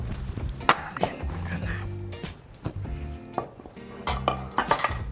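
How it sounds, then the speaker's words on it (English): Heavy pans banged and knocked around in a home kitchen during cooking, irregular metallic clanks and clinks scattered across several seconds with some low background sound between hits. "You can hear all my banging, can't you? I have heavy pans."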